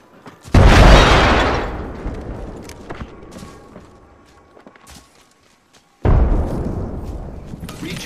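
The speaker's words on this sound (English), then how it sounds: "Grenade, watch out." A grenade blast in the Apex Legends battle royale erupts as a loud, broad boom that slowly decays, and a second heavy burst arrives several seconds later, with faint game sounds and footsteps in between.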